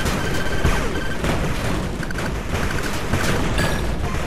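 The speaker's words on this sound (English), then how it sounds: "There's a minigun turret again." A minigun turret fires in the retro-style strategy game 8-Bit Armies, producing a continuous loud barrage of rapid gunfire mixed with crashing impacts and mechanical clatter.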